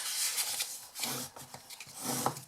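Scored cardstock is folded and burnished with a brisk, close rubbing and scraping, in several short strokes across a couple of seconds.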